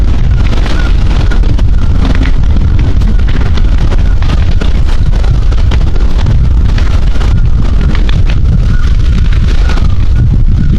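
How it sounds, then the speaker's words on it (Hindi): A forest and field fire blazes in strong wind in a village, giving a loud, constant roaring rush with heavy wind buffeting across the whole stretch and no voices. "मैं आपको आवाज़ सुनाता हूँ, वहाँ कितनी तेज़ी से भभक रही है आग"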